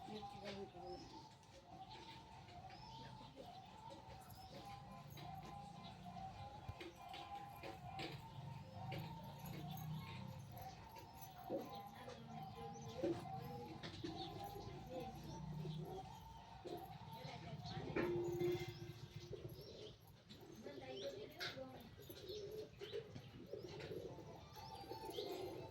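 Pigeons coo softly from a village rooftop loft, low rolling calls repeating faintly in the distance among light chirps and background murmur.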